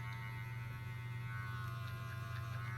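An AcneFree Sonic Advanced cleansing brush runs on the nose, giving a steady, close electric hum and buzz that holds at an even level throughout with no talk.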